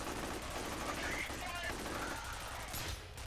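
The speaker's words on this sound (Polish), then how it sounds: "słyszymy wystrzały z wieżyczki" Turret gunfire in the video game F.E.A.R., heard as faint, distant bursts of shots mixed into a continuous, noisy game soundscape at low level.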